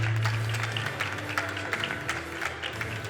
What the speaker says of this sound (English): claps for Zenihub, please, ladies and gentlemen